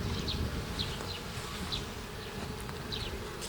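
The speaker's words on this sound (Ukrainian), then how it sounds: "От виходить бжілка і от виходить бжілка." Honeybees hum and buzz steadily at close range around an alpine hive frame as new bees emerge, a dense low drone with occasional brief higher buzzes as individual bees pass.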